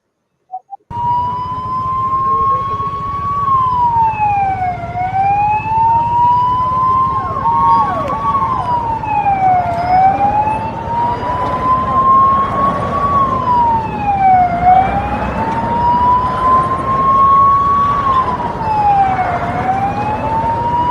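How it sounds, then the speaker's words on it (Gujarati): A loud ambulance siren wails continuously nearby on a road, its pitch sweeping up and down in a steady repeating cycle over traffic rumble. "પછી એમ્બ્યુલન્સને જવા દેવામાં"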